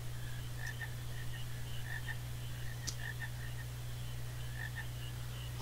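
Video game frogs croak in Final Fantasy IX, a scattered run of short, soft croaks repeating over a constant low background hum, with faint murmuring.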